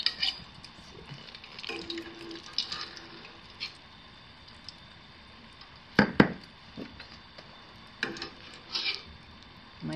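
Oliebollen dough with raisins goes into hot frying oil, heard as scattered scrapes and clinks of utensils against the pot over a soft, quiet sizzle, with a few sharper knocks spread through the stretch.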